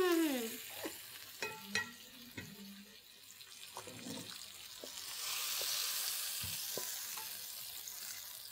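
Onions frying in a home kitchen pan, with soft sizzling and scattered stirring clinks and scrapes under a steady hiss that swells toward the end, heard without talk.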